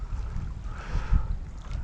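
A gust of wind on a lake island, a low, rumbling buffet against the microphone that swells and eases briefly, with faint water noise beneath.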